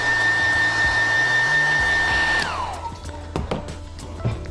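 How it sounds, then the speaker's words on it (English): A hairdryer blows steadily to dry glue on a leather jacket repair, loud and close at first, then switched off midway, leaving a fading whine and a few clicks and handling knocks. "I'm going to quickly dry that with a hairdryer again to speed up the process."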